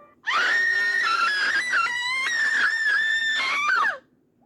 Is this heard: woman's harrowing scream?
yes